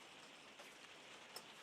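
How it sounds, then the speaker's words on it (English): Rain just beginning to fall outdoors makes a soft, faint, continuous hiss, with a couple of slightly sharper drops standing out, and no voices. "It's just started raining here."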